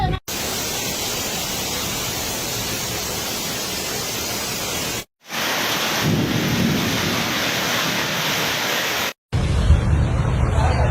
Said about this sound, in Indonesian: Hujan batu dulu.